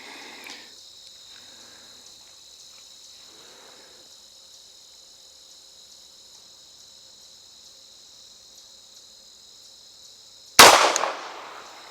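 A CZ P09C Nocturne pistol fires a single loud, sharp shot at an outdoor range near the end, after a long stretch of quiet with crickets chirping steadily in the background.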